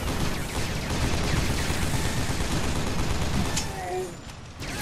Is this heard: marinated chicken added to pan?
no